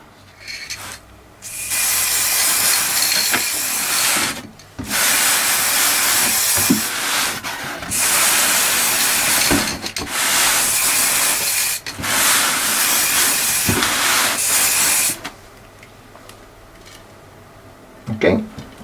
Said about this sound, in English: I'm getting ready to give these things their first layer of clear coat.